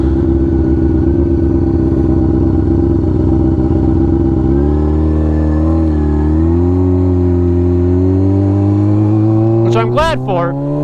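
A motorcycle on a night ride, its engine running loud and steady throughout with a rise in pitch partway as it accelerates, a person talking over it, and a brief sharp clatter near the end.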